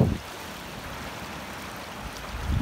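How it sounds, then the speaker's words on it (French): A small, partly frozen stream flows with a steady, broad rush of water that holds even throughout, close and alone with no voices. "Arrivé au ruisseau qui m'oblige à faire demi-tour"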